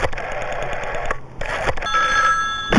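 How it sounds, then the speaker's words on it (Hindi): A telephone rings in short, loud bursts, a bright trilling bell separated by brief gaps, heard alone and close. "जरा देवी प्रसाद जी को फोन लगवाइएगा"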